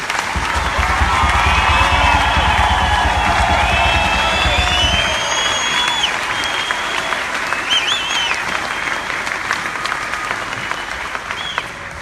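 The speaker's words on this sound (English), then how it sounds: "please join me in one more big round of applause for all your soldiers" Sustained loud applause with cheering from a crowd at an Army soldiers' graduation ceremony, dense clapping throughout with whistles and shouts rising over it, easing slightly toward the end.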